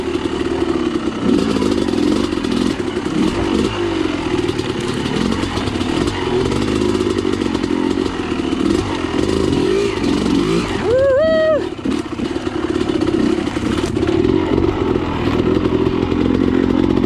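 A motorcycle engine idles steadily on a hot day on a dirt trail, a constant close rumble throughout with a brief rising rev burst near the end.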